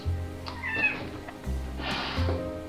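A cat meows in a bedroom, a couple of short, fairly close calls standing out over a steady low hum of room noise.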